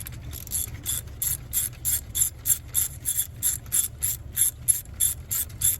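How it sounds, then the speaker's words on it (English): A hand ratchet tightens a bolt on the water pump of a Lexus ES350, giving a steady run of crisp, close clicks in quick rhythmic bursts with no talking. "And I'm gonna put the bolt back down in there."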